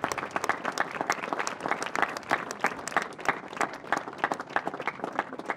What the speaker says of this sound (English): I would like to ask for a tremendous round of applause to Mr. Pete Etchart, our COO